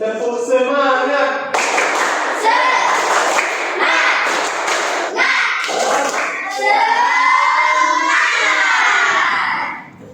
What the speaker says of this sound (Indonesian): mari kita melakukan sedikit tepuk semangat